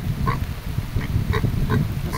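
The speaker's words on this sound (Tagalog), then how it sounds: "Baboy nila mga idol, oh." Pigs grunt and oink inside a pen, a close run of short, rough grunts repeating every fraction of a second with no talking over them.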